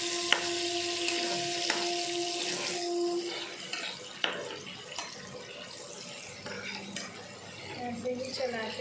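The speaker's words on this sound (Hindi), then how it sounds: "अब अच्छे से फ्राई करेंगे।" Chicken pieces with chillies fry in a pan, giving a steady hissing sizzle broken by scraping and clinking as they are stirred, with faint tonal ringing and some low background voices.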